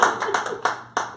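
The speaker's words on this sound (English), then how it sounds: "Yes, give me applause." Scattered applause at a home event, a few people clapping in uneven bursts, moderately close, with no voices over it.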